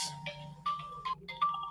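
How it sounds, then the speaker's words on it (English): A burner phone ringing, a short electronic ringtone pattern of repeated bright tones in bursts, clear and close with no voices. "my burner phone rings."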